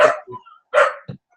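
A dog barks twice, two sharp close barks each followed by a short soft yip, loud and alone in an indoor room.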